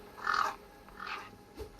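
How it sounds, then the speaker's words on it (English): Birds caw in the video game Beyond a Steel Sky, a few harsh, rasping calls in quick succession, fairly faint and alone without talk. "Damn birds!"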